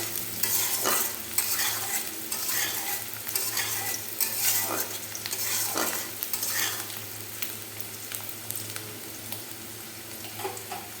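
Chopped onion fries in hot oil in a pan for a country chicken curry, a steady sizzle broken by repeated scraping and stirring strokes, close and fairly loud with no talking.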